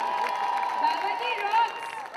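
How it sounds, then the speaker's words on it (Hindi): Audience applause and cheering at a film awards ceremony for Baba ji, a steady dense wash of clapping and crowd noise that runs continuously and fairly loud throughout. "सो एक बार बाबा जी के लिए जोरदार तालियां"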